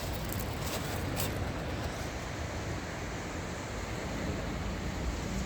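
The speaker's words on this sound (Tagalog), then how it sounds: "Ng bawat hampas ng tubig." Steady broadband rush of surf at Eastbourne, waves breaking continuously with a low rumbling wash and some wind noise, no voices.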